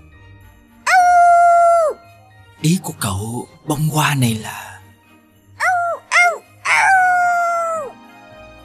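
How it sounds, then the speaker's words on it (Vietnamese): A dog barks and howls several times in an animated 3D folk tale, long sustained howl-like cries alternating with short sharp yips, loud and close, with a voice speaking between some of the calls. "Tiếng chó sủa ở đâu vậy?"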